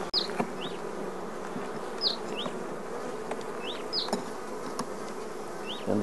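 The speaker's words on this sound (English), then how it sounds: "Drive the bees down and away." Honeybees buzzing at an opened Langstroth hive during an inspection in Africa, with a steady close hum throughout and occasional faint birdsong chirps in the background.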